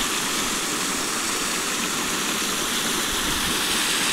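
Water gushing from a newly drilled borewell makes a steady, loud rushing roar with no pauses, close and unbroken until it cuts off abruptly at the end.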